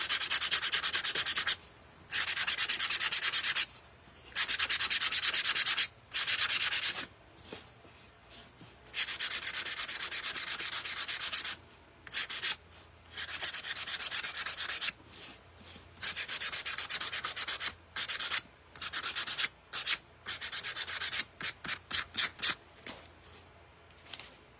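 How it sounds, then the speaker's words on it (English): Hand sanding on a carved woodblock makes a bright, hissy scraping in repeated strokes, long sustained passes at first, then quicker short rubs with brief pauses, close and alone. "so I'm going to sand it out a little."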